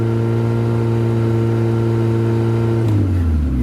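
Engine of a 1991 Yugo GV Plus with fuel injection, idling with a steady loud hum, then given a brief bit of gas so the tone shifts and rises near the end, close up.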